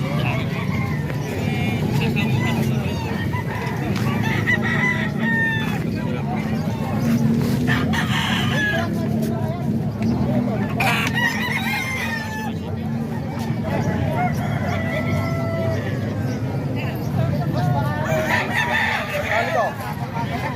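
Roosters crow repeatedly and chickens cluck at a busy fowl market in Kalumpit, with continuous crowd babble and people talking over the birds.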